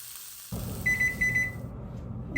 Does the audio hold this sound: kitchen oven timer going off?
yes